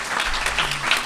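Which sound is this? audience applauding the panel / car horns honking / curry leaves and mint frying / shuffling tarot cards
audience applauding the panel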